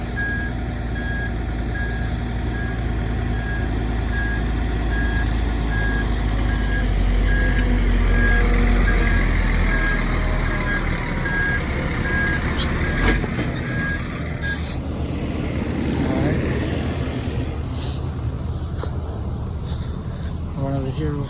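A dump truck on a dirt development site backs up, its reversing alarm beeping steadily over a loud idling diesel engine, followed by a hiss of air brakes and clanking as the beeping stops; no talk is heard.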